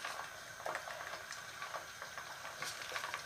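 Samosas fry in about two centimetres of hot oil in a large pan, with a steady soft bubbling sizzle and small crackles close by.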